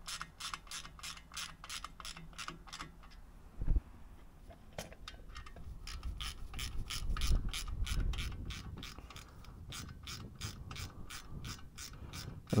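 A ratchet wrench tightens the exhaust silencer bolts on a Royal Enfield Hunter 350 motorcycle, giving rapid, evenly spaced metallic clicks close up, pausing briefly midway and then resuming, with some low handling rumble and no talk.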